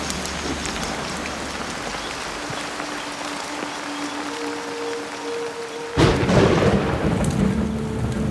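Heavy rain pours steadily on a tropical island survival camp, with a sudden loud burst of thunder crashing in near the end and the downpour continuing beneath it; no one speaks.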